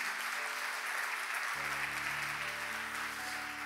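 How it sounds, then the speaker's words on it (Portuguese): Church congregation applauding during a sermon, a broad continuous burst of clapping from many people, with a sustained tonal hum entering partway through beneath the clapping. "Você pode aplaudir bem forte nosso Deus"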